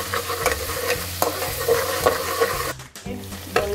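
Ginger-garlic paste stir-fried in hot oil in a pan, with a steady sizzle broken by repeated scraping strokes of a spoon, loud and close, with a short dip near the end.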